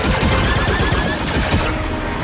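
Gunfire in the Star Wars Outlaws video game: dense, continuous rapid bursts and booms fill the whole stretch at high loudness, with no pause between shots.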